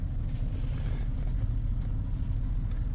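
A 2006 Chevrolet on a test drive, heard from inside as a steady low engine and road rumble, continuous and even, with no voices.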